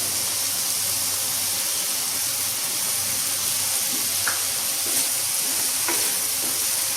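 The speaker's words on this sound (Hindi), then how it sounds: "चावल फ्राई हो गया एक साइड में टमाटर भून रहा है" Rice and tomatoes for khichdi fry in a pan with a continuous close sizzle and crackle, broken by a few faint clinks and stirring sounds; no talking is heard.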